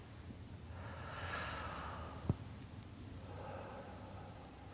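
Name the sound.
breathing in through the mouth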